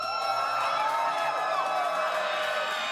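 A large arena crowd at a Valorant VCT Americas Kickoff match roars and cheers for Sentinels, a sustained loud wall of whoops and shouting that never lets up.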